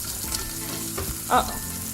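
Smashburger patties sizzling steadily in a cast iron skillet, with a continuous close frying hiss and a brief scrape-and-clatter of a spatula flipping them near the end.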